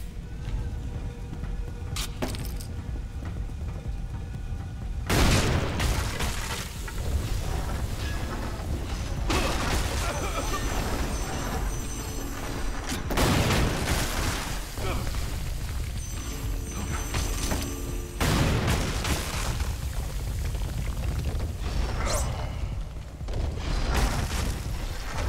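Explosions in the video game Lara Croft and the Guardian of Light go off as several heavy, broadband booms a few seconds apart, each followed by rumbling debris over a continuous game soundscape.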